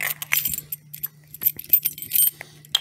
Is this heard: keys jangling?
yes